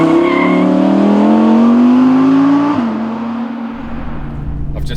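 An Audi R8 V10 Performance with over 610 brake horsepower drives along a road, its loud engine roaring close by with a falling pitch as it passes, then easing into a lower, fading drone.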